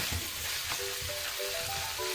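Fried onions and spices sizzle in a pan for minced-meat rice as they are stirred, a close, steady crackling hiss with a few soft scraping strokes.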